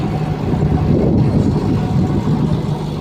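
A tractor engine runs steadily during manure loading work, a continuous low droning rumble held at a constant level throughout.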